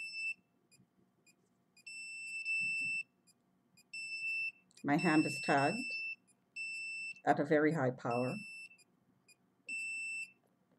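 A detector alarm beeps in short evenly spaced bursts, high and thin, cycling on and off throughout; someone talks over parts of it in a quiet room.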